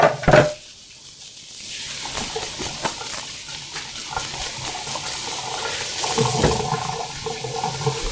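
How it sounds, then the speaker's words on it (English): A kitchen tap runs steadily while hands are washed after handling raw chicken, a continuous close splash with small clatters at the start and a slight surge near the end. "I'm gonna wash my hands again."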